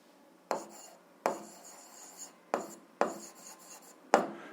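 Pen or chalk strokes writing out an algebra solution, a few short scratchy bursts separated by brief pauses, close and fairly quiet with no talking.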